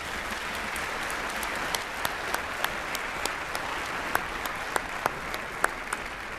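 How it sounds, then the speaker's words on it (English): Steady applause from a large youth assembly at a European Parliament session for the interpreters, even and sustained with a few sharp individual claps standing out. "I propose we give them first a big round of applause"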